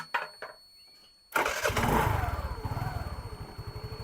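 A scooter engine, newly fitted with a replacement battery, cranks on the electric starter and catches. It settles into a loud, close, rhythmic putter at idle that slowly eases off.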